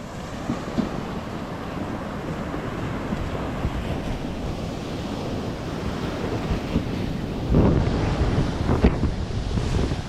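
Sea waves surge onto the shore with a steady roaring wash and heavy wind buffeting the microphone, a louder surge swelling near the end.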